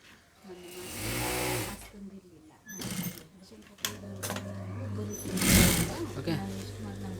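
A sewing machine stitching along the edge of a lined blouse, bursts of motor whir that start and stop close by, with someone talking between and over the stitching.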